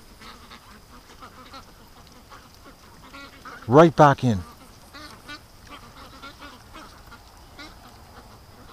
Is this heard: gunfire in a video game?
no